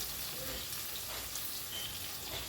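Marinated bitter gourd frying in hot oil in a pan, giving a steady, even, fairly quiet sizzle with a dense crackle that runs unbroken throughout.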